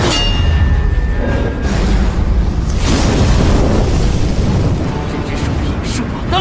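Cannon fire in a martial arts film fight amid flames, with booming blasts and clanging impacts layered under loud dramatic soundtrack and voices, dense and continuous with a sharp burst near the middle.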